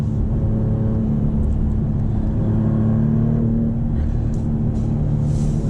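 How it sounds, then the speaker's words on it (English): A 2025 Maserati GranCabrio Trofeo engine hums steadily with a low, constant rumble as it accelerates to 60 mph, loud and close, with no voices. "we'll accelerate in a second. Ready? And there we go to 60 miles an hour"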